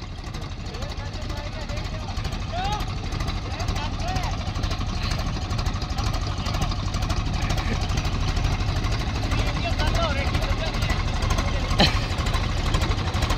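A Swaraj tractor engine labouring up a steep climb in low gear, a continuous throbbing rumble with rapid knocking pulses throughout, loud and close, while someone talks over it.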